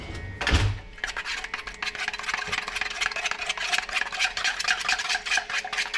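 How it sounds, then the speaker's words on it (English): A chicken wing mix is stirred in a bowl, a continuous close scraping and swishing texture with a rhythmic rub, opened by a short louder knock near the start. "Mix that up."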